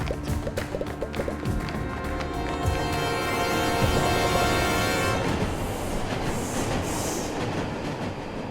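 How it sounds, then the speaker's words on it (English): Train passing in the Last Stop video game, a loud, close rolling roar with rhythmic wheel clatter and high metallic screeching that fades to a rumble. "There's a train!"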